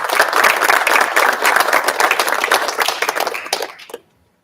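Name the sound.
audience applause for teachers and families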